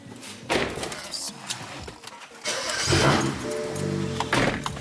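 A BMW F10 535i starts up after a downpipe install: a starter whirr, then the engine catches into a loud, rough idle, with a door thump before it and people talking around it.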